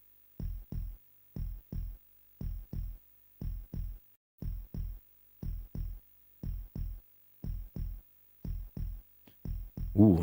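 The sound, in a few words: heartbeat sound effect in a video game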